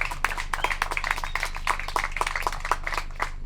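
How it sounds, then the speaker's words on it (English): Guests at a first birthday celebration clap for a speaker being introduced, a moderate scattering of distinct claps from a smallish crowd in an irregular patter, fairly even in level. "please give a round of applause for Pule Mukowa."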